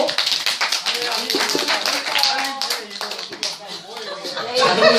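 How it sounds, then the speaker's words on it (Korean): A small seated group at a farmers' association gathering claps hands together, brisk overlapping claps filling the whole stretch, fairly close, with voices murmuring beneath. "자, 박수로."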